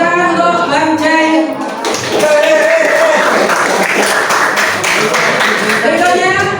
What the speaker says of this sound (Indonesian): Tepuk tangan untuk Bang Ceng.